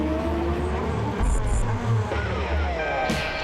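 Race cars at the Macau Grand Prix street circuit, engines roaring and revving as cars pass, loud and continuous with overlapping engine tones.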